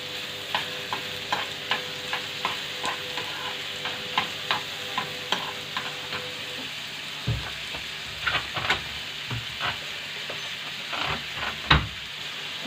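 Onions frying in hot oil in a pan for an Egyptian egg omelette are stirred with a utensil, giving regular scraping clicks over a continuous sizzle, then heavier irregular knocks and stirs toward the end.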